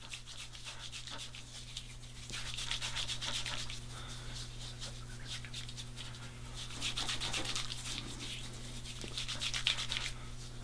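Shaving lather is massaged into a beard by hand, producing a steady, close, soft bristly rubbing and scrubbing that swells in faster passes over a constant low hum.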